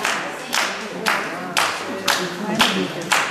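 Gentle hand slapping on skin during a paida slapping therapy demonstration, with sharp slaps spaced about half a second apart in a steady rhythm and room ambience and faint talk between them.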